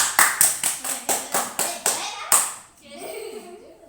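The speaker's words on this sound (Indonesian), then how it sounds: "tepuk tangan untuk saudari kita mereka" Rhythmic group clapping in a classroom after a student's answer, about eight sharp, evenly spaced claps, followed by a voice speaking.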